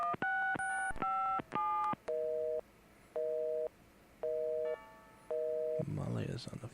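Telephone dialing in the adventure game Gabriel Knight: Sins of the Fathers, with a quick run of touch-tone beeps followed by a repeating on-off ringback or busy tone, clear and close, ending in a brief rustle.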